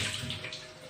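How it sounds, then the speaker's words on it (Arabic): Tap water running steadily into a cooking pot being rinsed in a kitchen, a close, continuous splashing gush filling the brief moment with no pause. "نجيب حله، نضيفه كده، نشطفها شطفه"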